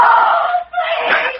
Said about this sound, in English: She screamed.